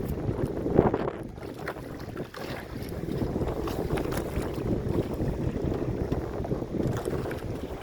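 A 12 ft Expandacraft tri-hull pontoon boat rides choppy Gulf waves, giving a steady rumble of water slapping the hulls mixed with gusting wind buffeting the microphone, loud and continuous, with no one talking.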